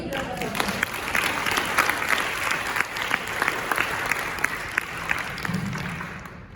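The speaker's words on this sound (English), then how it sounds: "Please give them a big round of applause." An evening school competition audience breaks into sustained applause, with dense clapping that stays even and loud for several seconds before easing off at the end. Murmured crowd voices sit underneath.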